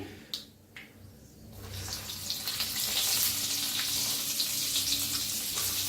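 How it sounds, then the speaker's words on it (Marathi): Stuffed brinjals drop into hot oil already tempered with cumin, mustard seeds, asafoetida and turmeric, giving a few soft knocks before a steady, close sizzle builds and holds without talk. "म्हणजे तेलात छान असं भाजून घ्यायचं थोडस"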